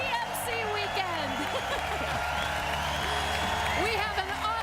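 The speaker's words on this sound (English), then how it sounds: "This is one loud crowd." A large crowd cheers, whoops and applauds throughout at the 2017 Pan Mass Challenge opening ceremony, a dense, loud, steady roar with voices talking over it.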